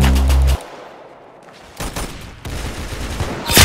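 M40 sniper rifle gunfire in a video game: a loud blast opens, then quieter crackling and reports follow, with another sharp burst at the end.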